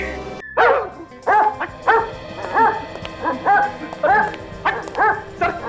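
A dog barks repeatedly in a tense indoor crime-drama scene, sharp close barks and yips coming in an uneven rhythm of about a dozen bursts, loud and alone without talk.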